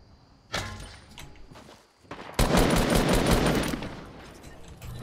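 Gunfire in the Fortnite Battle Royale video game near the silos, with a burst of shots, a short lull, then a louder, sustained stretch of rapid firing.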